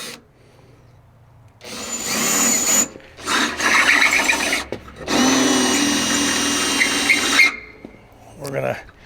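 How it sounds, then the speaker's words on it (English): A power drill bores out a bolt on a Freightliner FLD truck fuel tank, grinding in several close, loud bursts of a few seconds each with short pauses between, ending in a brief final run. "We're going to drill this bottom one out"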